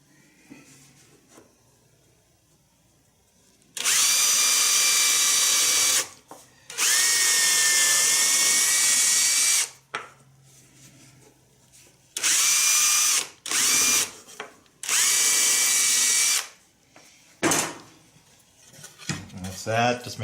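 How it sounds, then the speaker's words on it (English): A power drill whines in several loud bursts of a few seconds each, bit biting into a wooden board for bowl turning, with quiet pauses and handling noises between runs. "so we're going to drill these holes here"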